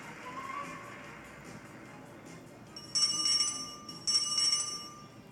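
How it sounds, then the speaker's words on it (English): Two short bright bell rings sound from the judge at a show jumping arena, each a clear ringing burst about a second apart, above a low hum of crowd ambience. "So that bell now starts a countdown."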